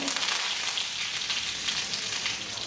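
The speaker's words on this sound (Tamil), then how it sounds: "இப்போ கடுகு சீரகம் சோம்பு முனையும் தாளிச்சுக்குவோம் கடுகு போட்டுக்கோங்க" Mustard, cumin and fennel seeds tempering in hot oil for a vegetable kurma, a steady close hiss of sizzling with scattered crackles and pops throughout.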